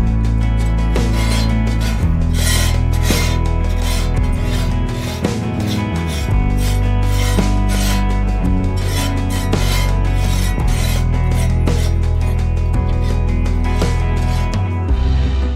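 A metal scraper grinds black residue off a cheap griddle plate, loud, close, continuous rasping strokes in a steady back-and-forth rhythm without pause.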